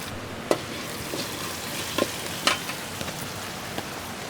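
Coriander seeds, dried chillies, cumin and pepper dry-roast in a pan with a little oil, giving a soft continuous sizzle broken by a few sharp crackles and pops, fairly quiet, with no talking.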